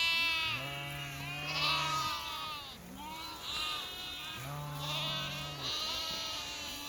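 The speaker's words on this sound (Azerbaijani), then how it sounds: "Maşallah quzularına bax" Ewes and young lambs from a flock of 75 breeding sheep bleat repeatedly, with overlapping near and farther calls in close succession and no clear talk over them.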